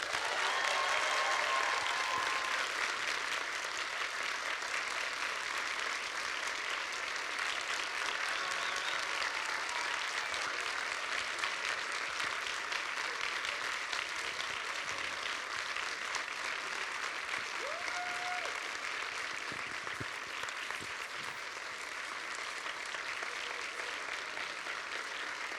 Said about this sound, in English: please give a warm and very loud round of applause